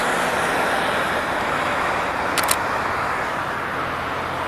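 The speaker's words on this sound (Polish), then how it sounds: "Jedzie biały samochód." A white car drives along a road through steady, loud traffic rumble, with a continuous wash of passing-vehicle noise and no single clear pass-by standing out.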